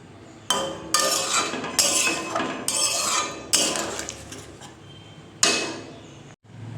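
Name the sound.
paneer curry being transferred into a bowl, utensils clinking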